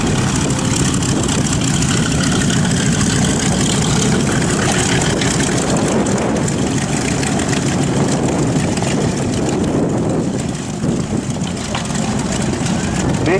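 The B-29 Superfortress "Fifi" makes a low pass at an air show, its heavy piston engines giving a loud, sustained rumbling drone, with a commentator talking over it.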